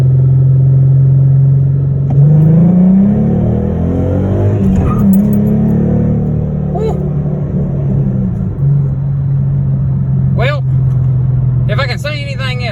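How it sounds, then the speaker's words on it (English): A Ford 3.7 Cyclone V6 fitted with a Coyote throttle body rises from a steady idle into a loud rev that climbs and falls back, then settles into idle again, with a voice speaking briefly near the end. "Let's rev it again."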